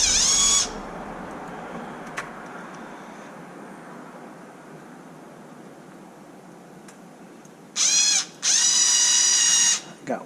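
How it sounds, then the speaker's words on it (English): Bolts being snugged down while fitting an LED kit to a Kraton 8S, with two bursts of close, loud ratcheting, one brief at the start and a longer pair near the end, separated by a long quiet stretch. "it's time to get these bolts to snug in"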